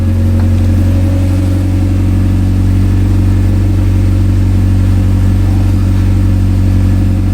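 A Honda Civic EG with a swapped B16B Type R engine, worked on in a home garage, runs loud and close with a steady engine drone and slight throttle rises throughout, with no talking.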